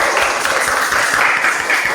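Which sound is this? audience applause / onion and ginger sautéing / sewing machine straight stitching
audience applause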